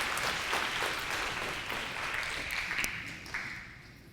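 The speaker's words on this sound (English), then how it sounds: "y'all make her feel welcome with a round of applause" Elementary school students at a DARE graduation clap in a round of applause welcoming a guest speaker to the stage, steady crowd clapping that thins out toward the end.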